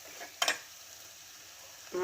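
A brief, sharp hiss of water hitting hot oil bursts out, then fades to a faint background sizzle, while cooking red fish.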